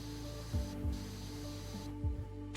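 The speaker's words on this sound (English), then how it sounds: "Spray, spray, spray, and turn." A pressure washer jet in PowerWash Simulator during a Halloween seasonal level: a continuous hissing spray over a low steady hum, with a few brief thumps and dips as the nozzle turns.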